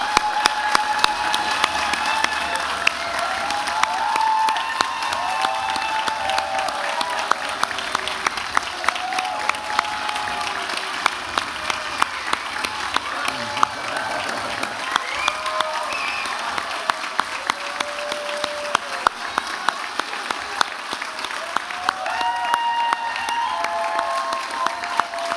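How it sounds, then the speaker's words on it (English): A large audience gives a long, sustained round of applause for graduates at a spring convocation ceremony, dense clapping with scattered cheers and a few faint voices mixed in throughout. "I wondered if everybody could join me in a huge round of applause for our amazing graduates."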